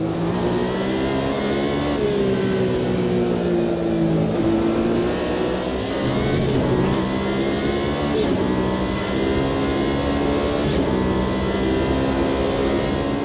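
Race car in the Automobilista 2 racing game, with a loud, steady engine drone and shifting pitch as the car accelerates and corners. Tyre scrubbing is not clearly separate from the engine.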